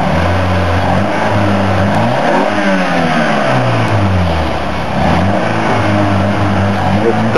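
A scratch-built mid-engine sports car engine runs loud and close, its note rising and falling as it revs and pulls away, with a voice heard faintly over the engine.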